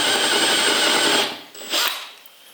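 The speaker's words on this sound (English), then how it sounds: "so I will drill down in a tiny bit more" A power drill bores into a wooden Tikka T3 rifle stock to deepen the recess for a Picatinny rail, a loud steady whine that stops abruptly, then a brief second burst.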